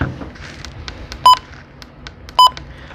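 Two short, loud electronic button beeps from a Midland WR-120 weather alert radio, about a second apart, over a quiet room background.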